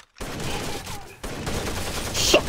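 Gunfire from the video game Rainbow Six Vegas 2, sustained bursts filling the clip after a brief silent start, loud and dense with a short break near the middle and a sharper crack toward the end.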